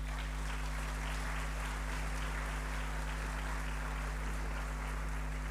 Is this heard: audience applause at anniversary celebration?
yes